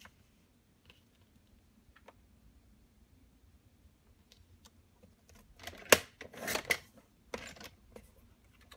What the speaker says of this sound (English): now I'm going to cut the other one and just cut it using this as a guide